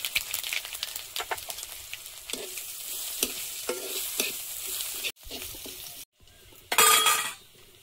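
Whole cumin and crushed garlic sizzle loudly in hot frying oil with a steady hiss, punctuated by several spatula stirring taps, then a brief pause before a sharp, bright burst of spitting sizzle near the end.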